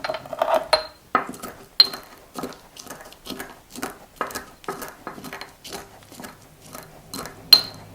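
Pickling spice being crushed, with a series of sharp, crunchy grinding strokes at a steady, uneven rhythm, close and distinct, about a dozen in a row.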